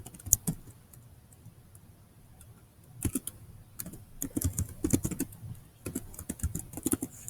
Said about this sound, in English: just type in there whatever you want.